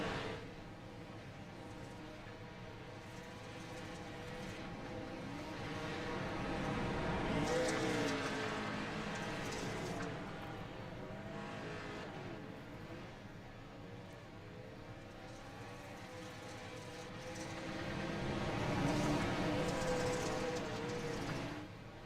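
Pro 4 racing trucks roar through a turn at Crandon, engines swelling twice as the pack sweeps past, with a steady crowd-and-track wash between passes.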